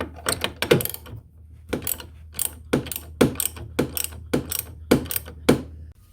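Ratchet wrench breaking free and backing off a suspension adjuster nut on a 1997 Polaris Indy 500 snowmobile: close, crisp bursts of rapid clicking repeated in a steady rhythm of about a dozen strokes, with short pauses between, no talk.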